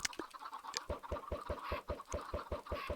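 Minecraft chickens clucking in a farm pen, a loud, steady run of short regular clucks about every fifth of a second, with higher chirpy squawks scattered over the top and no talk.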